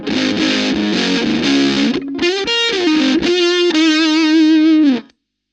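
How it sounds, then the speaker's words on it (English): An electric guitar runs through a Fuzz-A-Matic by RYRA fuzz pedal, giving a thick, saturated, loud riff of chopped chords that settles into sustained, buzzy single-note bends before stopping abruptly. "And then with the Fuzz-A-Matic by RYRA engaged"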